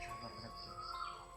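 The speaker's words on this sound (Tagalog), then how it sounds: "Narinig naman namin muli yung boses ng ibon na nagdadala ng panganib" A bird call held to signal danger, recorded outdoors: a thin, sustained whistling tone rises and falls over a second and a half, faint and distant against a steady background hiss, with no voices.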